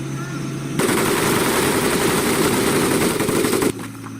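Sustained machine gun fire rattles loudly for about three seconds over a steady engine-like drone during a Marine boot camp mud pit crawl in the video game Medal of Honor Pacific Assault, then cuts off abruptly.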